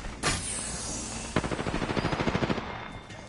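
Automatic gunfire in the battle royale game Apex Legends: an opening blast, then a rapid burst of about a dozen evenly spaced shots, loud and close, with no talk over it.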